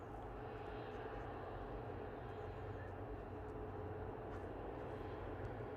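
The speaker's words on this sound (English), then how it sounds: "Next arrival is going to be Ryanair from Brussels." A Ryanair jet arriving from Brussels at Manchester Airport: a steady, distant engine drone with a faint whine, continuous and fairly quiet, heard from outdoors.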